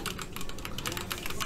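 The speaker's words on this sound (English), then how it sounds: "I like the way that your keyboard clicks when you press the buttons" Clicky computer keyboard keys pressed in a fast, uneven burst of sharp taps, close and fairly loud, with no voice over the typing.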